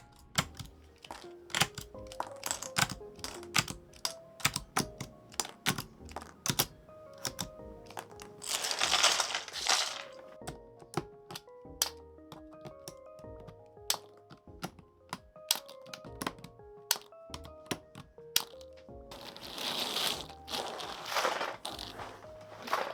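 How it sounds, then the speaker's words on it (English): Switches and keycaps pulled off an Aula Win60HE magnetic keyboard: a string of sharp plastic clicks and snaps in irregular rhythm, close up, with two louder crunchy bursts of rattling plastic, no talk. "Removing those switches and keycaps was so much easier compared to the Mad60HE."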